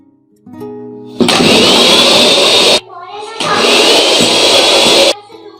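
Electric beater whirring loudly through cake batter for a black forest cake, running in two long steady bursts with a brief stop between them, a faint voice before the first burst.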